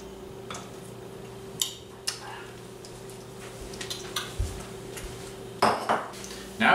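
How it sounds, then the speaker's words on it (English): Eggs are beaten one at a time into chocolate chip coconut cookie batter in a country kitchen, with irregular clinks and taps of utensil against bowl over a low steady hum, nearby. "Start beating that. We do this 1 egg at a time."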